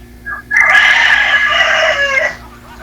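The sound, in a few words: roosters crowing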